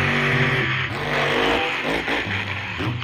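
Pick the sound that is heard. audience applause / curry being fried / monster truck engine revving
monster truck engine revving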